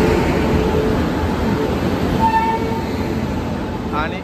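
An electric locomotive hauls LHB coaches of the Yog Nagari Rishikesh Express on the Konkan Railway, a loud, continuous close-up rumble with a brief tonal whine near the end.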